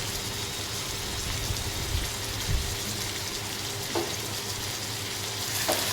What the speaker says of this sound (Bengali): আমাদের মাংসটা ভালো মতো কষানো হয়ে গেছে।